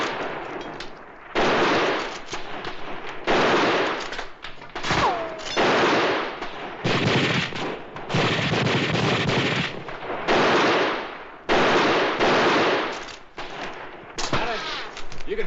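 Rifles fire in a western gunfight set in a canyon, with repeated loud, sharp shots in dense bursts and short pauses between them, and heavy echo through the whole stretch.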